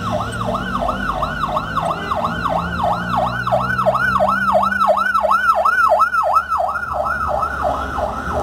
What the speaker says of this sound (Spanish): Ambulancias y todo.